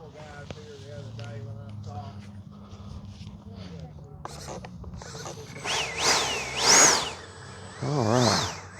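An FMS Integral 80mm RC jet's ducted fan winds up to a rising, whining howl that swells and wavers near the end, with someone talking and small knocks before it.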